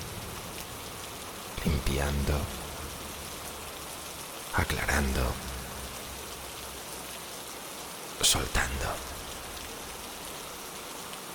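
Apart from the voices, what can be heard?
rain falling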